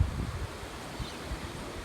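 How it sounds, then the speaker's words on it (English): Wind blowing outdoors in a windy area as a cold front passes near Sydney, a steady soft rush with low rumbling gusts buffeting the microphone, faint and with no talking. "it's pretty windy out here"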